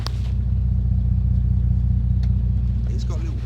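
A Bentley GT engine runs smoothly and quietly at idle, a steady low rumble with a faint tick, continuous and close throughout.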